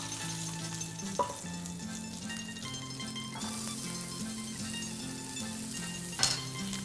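Leek browning in a hot pan, kept close and steady as a sizzle with faint background music, a couple of brief clinks of utensil against the pan cutting through.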